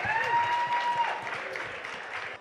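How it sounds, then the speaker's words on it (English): Steady clapping from a crowd, dense and continuous, tapering off slightly at the end. "Give them a big hand, please. Big round of applause."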